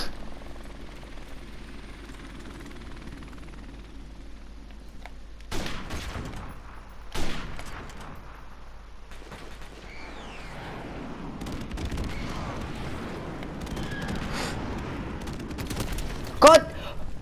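Gunfire in the Call of Duty video game, with scattered sharp shots and bursts at varying distances over a continuous low rumble of game ambience.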